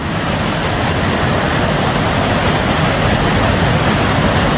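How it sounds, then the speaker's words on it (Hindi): A muddy flood river in Chamoli roaring loudly and continuously, a dense unbroken rush of water close by with no voices. "मटमैला पानी और नदी की ये दहाड़"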